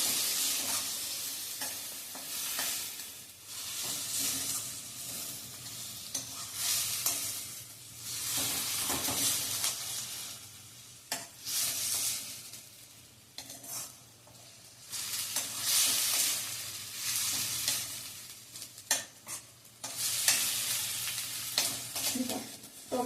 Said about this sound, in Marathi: आता हे परतून झालं की ह्यामध्ये मी घालणार आहे टोमॅटो, टोमॅटो पण छान परतून घ्यायचा आहे.